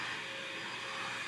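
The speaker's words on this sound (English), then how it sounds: "Sorry about the vacuum, by the way." A vacuum cleaner runs steadily in the background, a continuous broadband whoosh with a faint whine, with no break and no talking over it.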